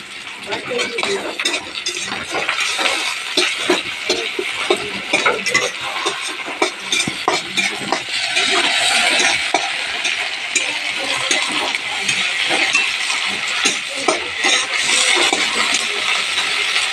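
Vegetables and dried fish frying in a curry paste, stirred with scraping strokes against the pan under a steady sizzle, close and fairly loud, with talking in the background.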